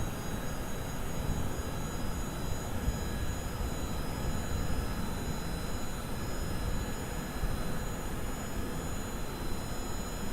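An aircraft accelerating down the runway for takeoff in the video game Kerbal Space Program, a dense continuous engine roar with a faint steady whine, loud and unbroken, with no voices.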